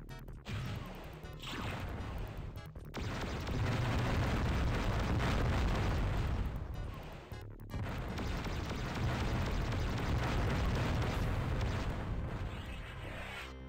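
Repeated mega missile explosions in the first-person shooter Descent, long roaring blasts that rumble continuously and cut out briefly twice before erupting again, loud and heavy with no speech.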